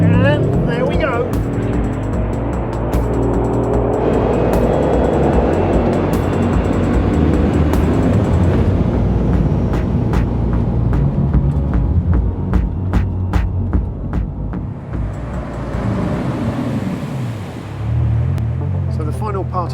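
A 2020 Bugatti Chiron using launch control gives a deep, throbbing engine roar that swells and surges as it pulls hard, with someone talking over much of it.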